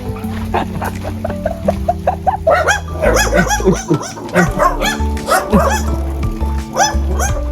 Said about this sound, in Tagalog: 2 aso na hindi makababa